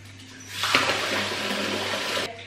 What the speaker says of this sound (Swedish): Jag måste fylla på vatten lite bara.